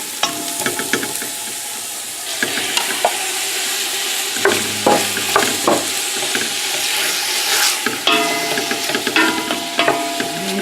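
Steak meat hits a hot soup pot and sizzles steadily, with scraping stirs from a wooden spoon and a few sharp clinks standing out over the continuous frying hiss; no one speaks.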